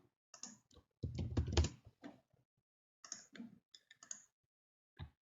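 Keys clack on a computer keyboard as a number is typed while a Python program runs, in a few quick close bursts of clicks separated by short pauses, with no talking.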